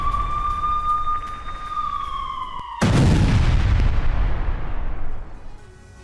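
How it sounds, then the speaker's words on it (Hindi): A Russian artillery strike on Ukrainian troops in Kursk: a loud, close blast bursts out after a steady siren-like tone and then rumbles away over several seconds. "रूसी आर्टिलरी के यूक्रेनी फौज पर हमले"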